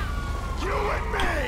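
Police siren wails in GTA Online, rising and falling sweeps sounding twice over a low engine drone, fairly loud and close.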